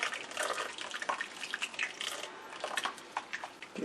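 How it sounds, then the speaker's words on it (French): Seasoning poured into a pot while cooking African black sauce (mbongo tchobi), giving a steady close splashing, trickling pour with small pulses throughout, no talk. "je prends juste mon assaisonnement, je verse là."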